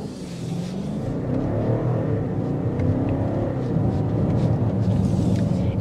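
A 2024 BMW X6 M60i accelerates with a steady, loud engine rumble and whir heard from inside, the drone building gradually with no talking.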